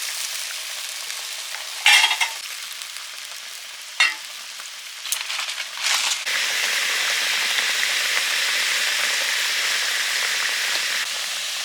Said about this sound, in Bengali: টক ফুটে গেছে মাছগুলো দিয়ে দিচ্ছি